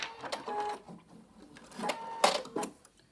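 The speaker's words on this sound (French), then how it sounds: "Je fais une piqûre nervure." A sewing machine stitches a seam on a fabric face mask, quick uneven whirring runs and mechanical clatter in short spurts, close and moderately loud, with no talk.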